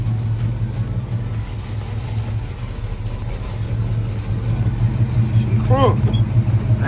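A boxy Chevy with a fuel problem idles nearby, giving a steady low rumble that swells slightly toward the end, with a brief squeak near the close.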